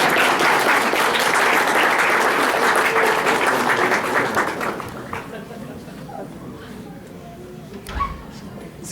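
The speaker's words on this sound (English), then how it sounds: "A round of applause for Hello Kitty." An audience at a Bangor Comic-Con cosplay contest claps loudly for a contestant in a Hello Kitty of Hufflepuff costume. The dense applause fills the first five seconds, then fades into scattered claps and murmuring crowd noise.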